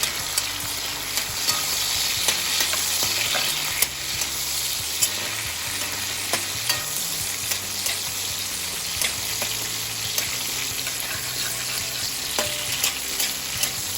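Veg chowmein with green chilli and ginger stir-frying in a hot pan, giving a loud, steady sizzle under repeated scraping stirs that run throughout.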